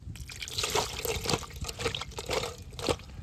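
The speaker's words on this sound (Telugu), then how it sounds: "బాగా కడుక్కొని ఒకసారి శుభ్రంగా కడుక్కున్న తర్వాత రొయ్యలు నీట్గా కడుక్కున్న తర్వాత" Raw prawns are washed by hand in water before frying. Close sloshing, splashing and trickling come in repeated bursts, with no speech.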